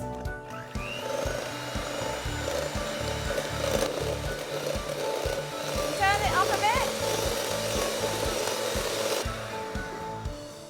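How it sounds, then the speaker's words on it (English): Steady electric whirring of an electric whisk beating egg yolks at medium speed for a cake, continuous and fairly loud, with faint background noise throughout. "And then we're going to get our whisk"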